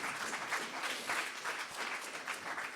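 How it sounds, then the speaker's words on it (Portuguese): A church congregation applauds in a steady, even wash of clapping that holds throughout, moderately distant and without any speech. "Vamos dar um aplauso à palavra do Senhor."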